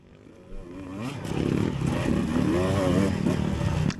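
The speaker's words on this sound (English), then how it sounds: "So this guy right here is on a KO K6. That's a Chinese competition bike." Engine of a KO K6 Chinese competition dirt bike at a cross-country race, a steady rising drone that builds after the first half second and holds loud and close, with wavering pitch as the rider works the throttle.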